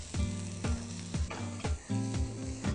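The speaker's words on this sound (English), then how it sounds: "So after you've sauteed the carrots and onions for about 2 minutes" Garlic, onions, ginger and carrots sizzle in peanut oil while a utensil stirs them, with rhythmic scraping strokes about every half second over a constant hiss, heard close and quiet.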